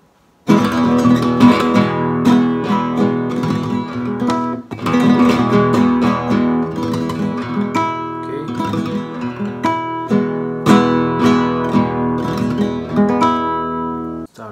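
Fast rasgueado strumming on a guitar playing a Malagueña arrangement, loud close chords in rapid rolled bursts with a few brief gaps between phrases, no talking.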